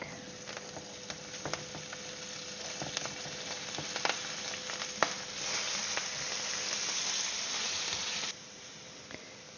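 Cabbage and garlic sizzle in a pan, a steady, fairly quiet hiss with scattered sharp crackles and pops that cuts off near the end.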